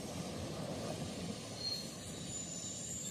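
A train rolls along a railway line at some distance, a steady low rumble of wagons with faint wheel squeal and thin high screeching overhead, continuous throughout.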